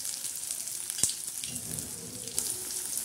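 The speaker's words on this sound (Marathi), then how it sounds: "आता हा कांदा आणि बोंबील असे छान फ्राय करायचे आहे." Bombay duck fish and onion fry in a pan with crushed garlic and cumin, making a steady, close sizzle with a sharp knock and light stirring sounds.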